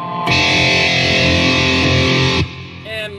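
EVH Shark electric guitar through a potted Super Distortion pickup, a loud distorted chord ringing out for about two seconds before being choked, followed by a brief quieter note.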